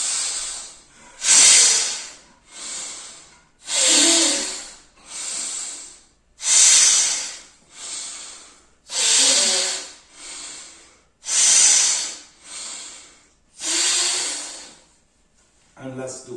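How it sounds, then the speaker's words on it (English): Forceful exhalations through one nostril during yogic breathing, about a dozen strong hissing bursts in a steady rhythm, each followed by a softer inhale, close and loud with no speech. "Breathe in from both and breathe out only from one."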